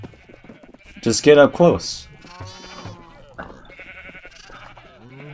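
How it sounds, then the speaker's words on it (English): A black sheep bleating in the Minecraft video game, a couple of short, wavering bleats close by, mixed in among people talking. "Oh no, that's a sheep! That's a black sheep, get out of here!"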